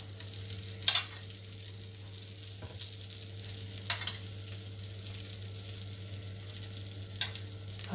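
Vegetables and steamed veggies sizzle on a hot sizzler plate: a steady, fairly quiet frying hiss over a low hum, with a few sharp stirring clicks and scrapes at intervals and no talking.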